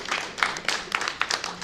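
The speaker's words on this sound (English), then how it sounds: "So give yourself a round of applause." Audience applause at a Friday community event, a small crowd clapping in uneven bursts at moderate distance, short and scattered rather than a sustained roar.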